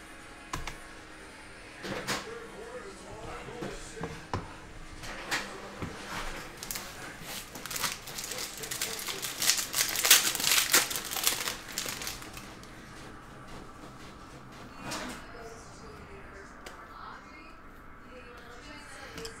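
Hockey card packs being ripped open and handled, giving crinkling, tearing foil and papery rustles in irregular bursts up close, with a brief louder stretch of ripping midway.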